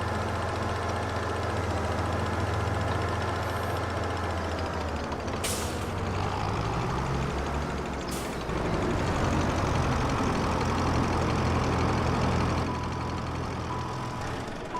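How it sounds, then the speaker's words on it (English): Tractor engine idling with a heavy, steady rattle, loud and close, continuous throughout with a couple of brief sharp hiss bursts partway through. "The engine's rattling its tits off."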